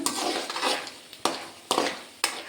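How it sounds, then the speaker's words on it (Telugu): Peanuts frying in oil in a home kitchen pan, a steady close hiss broken by three sharp metal scrapes and clinks of a spoon against the pan. "పల్లీలు బాగా వేగినాయి ఆయిల్లో తీసేస్తాను"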